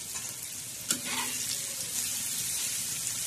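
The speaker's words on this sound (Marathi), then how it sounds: "तर आता हे मस्तपैकी असं आपण परतून घेणार आहोत." Broad bean pods frying with onion, tomato, garlic, salt and red chili powder on a flat griddle, a steady close sizzle with a sharp clatter of stirring near the start.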